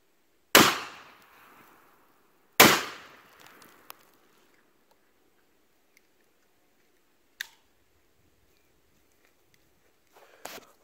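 Pre-ban AK-47 rifle shots fired at targets outdoors, two sharp loud cracks about two seconds apart, each with a short decaying tail, followed by fainter distant pops.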